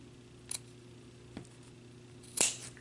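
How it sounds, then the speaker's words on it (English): Pinking shears cut along the top edge of fabric for an upcycled sleigh ornament, making three quiet, isolated crisp snips, the last one the loudest, in an otherwise hushed room. "I'm going to take some pinking shears and just along the top I'm going to cut evenly like this."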